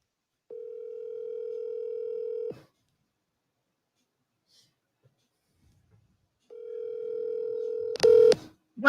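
A phone call's outgoing ringback tone sounds as a steady, clear single-pitch hum for two seconds, then silence, then the same tone again, followed by a brief burst of chatter.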